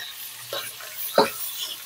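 Galunggong fish sizzles softly frying in a pan, with two brief scraping stirs standing out over a low steady hum; no one speaks.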